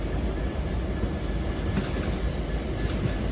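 A London Northwestern Railway train arrives at Crewe station on the West Coast Main Line, a loud, steady rumble of wheels and rolling stock close by, with faint clicks and a brief squeal.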